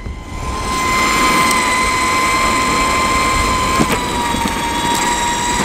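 An Exway X1 Pro Riot electric skateboard's belt-drive motor whines loudly and steadily, a high tonal hum that swells in and holds with a brief sharper burst midway, no talk over it.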